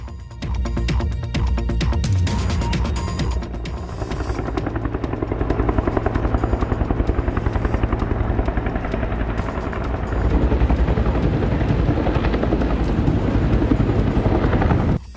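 A helicopter flies nearby, its rotor blades beating a fast, loud, steady chop over an engine whine that stays close and strong throughout.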